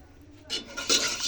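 Soybean-oil white sauce stirred in a pan, a soft scraping rub that starts about halfway through and keeps going in uneven strokes, close and fairly quiet, with no voices.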